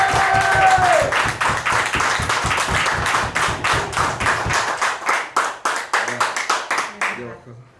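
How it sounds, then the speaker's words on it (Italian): Audience applause breaks out at a sports club event, loud dense clapping with a voice over it at first, then thinning into separate rhythmic claps that fade out. "Beh, applauso."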